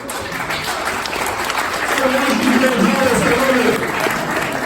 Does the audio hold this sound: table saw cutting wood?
no